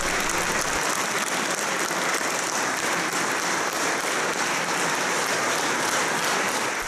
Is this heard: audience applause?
yes